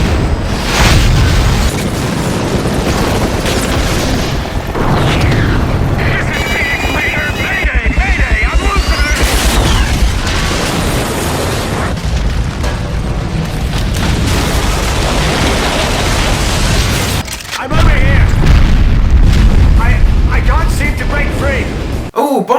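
Big booms and bursts ring out at the opening of the GoldenEye Rogue Agent video game, a dense, loud barrage of explosions and crashing debris layered over game music and effects throughout.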